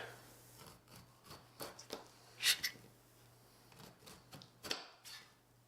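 A knife slicing the bottom off a pineapple: a series of short, close rasping cuts through the tough fibrous fruit, irregular strokes with a couple of sharper scrapes, quiet and alone.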